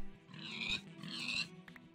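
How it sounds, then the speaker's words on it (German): Pigs grunting in the Minecraft video game, two nasal oinks in quick succession over a low background hum, fairly faint and close. "Oh, hier, die ganzen Schweine hier."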